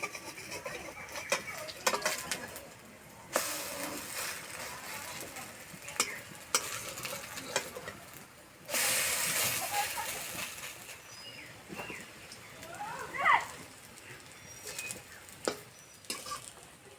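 Small fritters of pointed gourd leaves frying slowly in a karahi, a low steady sizzle with intermittent stirring scrapes and louder bursts of crackling, plus a faint rooster call in the background, without speech.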